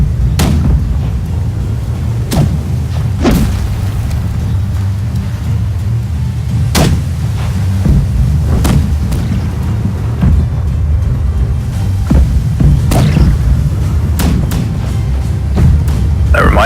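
Ship cannons boom again and again in a Blackwake naval battle between galleons, sharp heavy blasts scattered irregularly over a constant low rumble of sea and ship noise.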